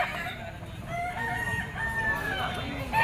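Roosters crowing amid the busy din of a gamefowl market, with several drawn-out crows overlapping one another over crowd noise and some background chatter.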